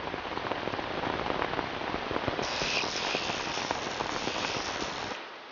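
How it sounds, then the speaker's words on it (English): Heavy rain pours down during a storm in the Scottish countryside, a dense, steady hiss with close spattering drops, loud and unbroken, with no voices. "When it rains this much, the hunters suffer most"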